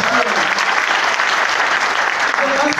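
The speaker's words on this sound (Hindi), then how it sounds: "एक बार आप उनके लिए तालियां ठोकिए।" Sustained applause from a live audience at a Hindi-language seminar event, dense and loud throughout, with some voices mixed into the clapping.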